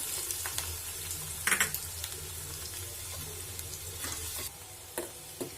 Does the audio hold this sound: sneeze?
no